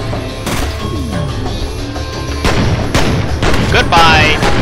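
In the video game F.E.A.R. Extraction, guns fire in loud, booming shots and bursts with rumbling impacts, heavier in the second half, over a dense backdrop of game noise.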